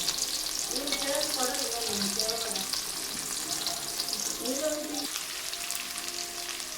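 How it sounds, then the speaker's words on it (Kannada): Two onions frying in oil for a red chutney give a loud, steady sizzle close by, with occasional stirring scrapes in the pan and a voice speaking faintly beneath. "ಈರುಳ್ಳಿ ಹಾಕಿದೆ ಎರಡು ಈರುಳ್ಳಿ ಸ್ವಲ್ಪ ಫ್ರೈ ಆಗಬೇಕು"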